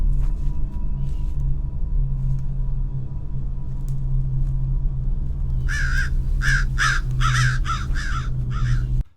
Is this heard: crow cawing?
yes